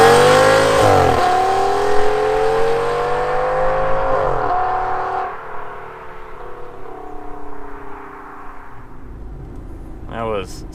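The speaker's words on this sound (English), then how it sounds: "This is run number 1, 2007 Audi S8, 24 degrees outside." A 2007 Audi S8 V10 launches hard on a 0-60 run, its engine climbing through rising revs with audible gear changes, loud and close at first, then easing off as the car settles.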